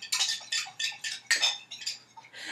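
A spoon clinks and scrapes against a glass while stirring very fine powdered medicine into water, a quick series of close, bright metallic taps and rattles with short pauses between them.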